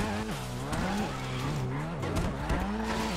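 A race car in GTA 5 roars with rising and falling engine revs while its tires squeal through skids, loud and continuous with no talk.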